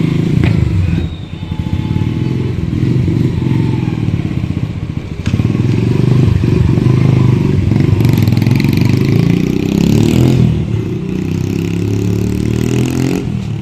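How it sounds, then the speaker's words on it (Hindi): A Yamaha YBR 125 motorcycle pulls away on a test ride, its engine revving and accelerating loudly and close by for the whole stretch, with some clatter and scraping and no talk. "वैब भाई को बाइक दिया है टेस्ट राइड के लिए"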